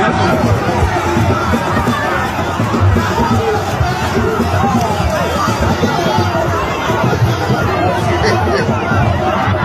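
Dense babble of a huge outdoor crowd at a political rally, many voices chattering and shouting at once, steady and loud throughout with no single voice standing out.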